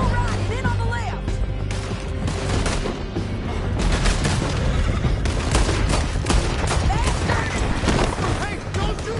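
Rapid gunfire in Red Dead Redemption 2 during a canyon chase, dense volleys of rifle and pistol shots cracking continuously over galloping and shouting voices, loud and sustained throughout.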